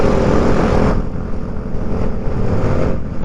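Motorcycles revving loudly during wheelies on a funeral escort ride, a loud, rough engine roar close by that dips slightly partway through and keeps rumbling steadily.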